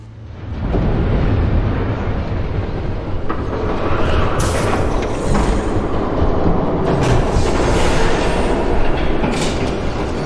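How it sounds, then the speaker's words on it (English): A train approaching in Batman: The Telltale Series, a loud, steady rumbling roar with rail clatter building in over the first second and holding at full strength, with brief sharp metallic bursts on top. "There's a train coming."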